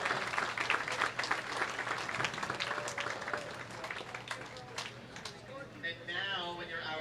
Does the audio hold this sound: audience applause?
yes